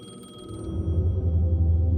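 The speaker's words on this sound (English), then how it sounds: "The payphone was ringing." A payphone rings in Alan Wake 2, a faint electronic trill pulsing briefly at the start before fading under a dark, rumbling ambient drone that swells and fills the rest.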